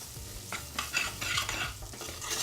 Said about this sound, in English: We're going to just coat that with the oil and the nice essence of the herbs.